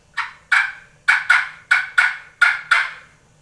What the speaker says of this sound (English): Makes good cluck sounds,